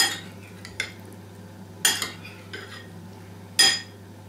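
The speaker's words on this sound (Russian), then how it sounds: "Перемешиваем." Utensils stir an avocado and cod liver salad dressed with olive oil, making a few distinct close clinks and scrapes against the bowl spaced a second or two apart over a low background hum.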